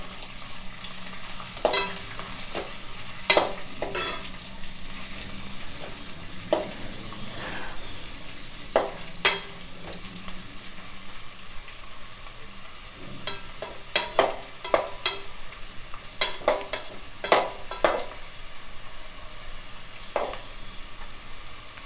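Onions and tomatoes frying in a pan for Nellore fish pulusu, a low continuous sizzle punctuated by irregular sharp clinks and scrapes of a spoon against the pan, close and moderately loud throughout.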